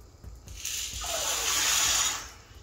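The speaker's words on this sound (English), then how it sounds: "pour the beans into the water" Dry garbanzo beans poured into a bowl of water, giving a steady, close rushing pour of rattling and splashing that builds for about a second and a half, then tapers off.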